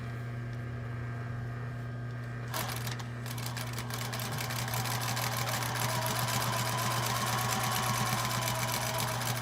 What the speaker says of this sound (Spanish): Vamos a pasar costura en el borde del sesgo.